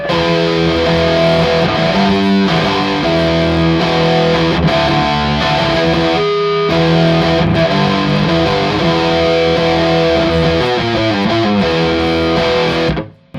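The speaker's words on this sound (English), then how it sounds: "When you add a humbucker to a Peavey 5150 in the lead channel" Heavily distorted electric guitar, a humbucker-equipped SG through the lead channel of a 1993 Peavey 5150 tube amp, playing loud, saturated riffs and chords continuously, cutting off abruptly at the end.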